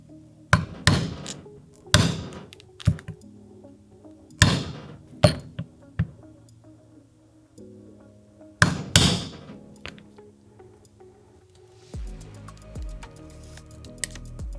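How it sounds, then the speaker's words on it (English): Hammer striking a metal punch to cut a belt slot in leather for a holster, a series of sharp, loud knocks in small clusters with pauses between, ending with quieter shuffling. "Let's punch out that belt slot."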